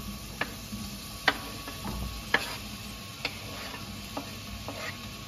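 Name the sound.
zucchini sizzling in oil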